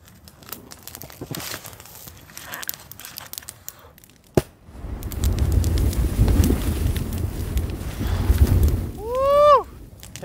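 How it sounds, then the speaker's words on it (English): Gusty wind roars and buffets the microphone in strong low rumbling surges at a winter campsite in Montana, blowing a tent around, with crinkling fabric noise early on and a brief rising whistle near the end. "the wind is really starting to howl and it's blowing my tent around"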